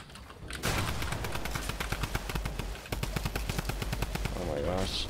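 Rapid automatic gunfire from the video game Fortnite, loud dense bursts of shots continuing almost without pause, with a short break midway and a voice briefly under the shooting.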